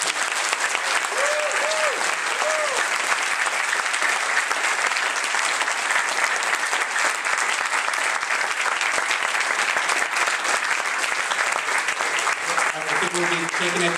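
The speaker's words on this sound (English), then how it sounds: "let's all a good round of applause for" A lecture-hall audience gives a sustained round of dense, steady clapping after a talk on comics. The applause holds evenly throughout, with a couple of brief voice sounds faintly under it.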